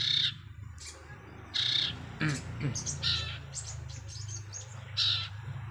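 Repeated high chirps from a nearby pet loloan bird at feeding time come in short bursts, with some rustling and faint background murmur.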